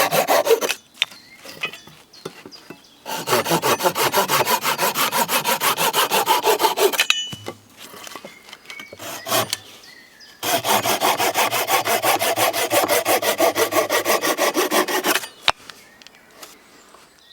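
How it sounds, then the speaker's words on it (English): A Glority DJS-20 folding Japanese pull saw cuts through wood in two long bursts of steady, rapid rasping strokes, close and loud, separated by short pauses with light handling noise. "So that was the Glority folding saw."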